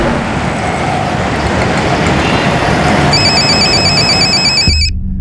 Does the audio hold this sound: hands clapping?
no